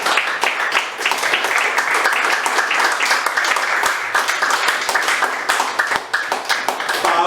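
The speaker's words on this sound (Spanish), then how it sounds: "Y le da un aplauso al Señor." A church congregation claps together in a loud, dense burst of applause that carries steadily for several seconds without pause. The clapping fills a reverberant room.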